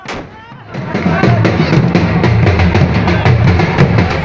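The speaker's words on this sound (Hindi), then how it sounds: "पटाखे फोड़े जा रहे हैं" A rapid string of sharp firecracker bursts, crackling close by and loud, layered over a noisy crowd, drums and background din at a street celebration in Madhubani.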